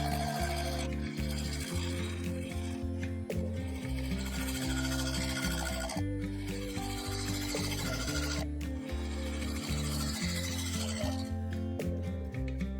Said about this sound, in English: then I finished off the underside, dishing it out with a bowl gouge